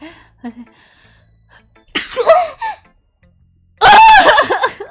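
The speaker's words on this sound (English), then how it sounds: "sneeze so weirdly" A loud, close sneeze with a sharp burst and a breathy wind-up, preceded by a quieter intake and a few soft vocal sounds, with no talk.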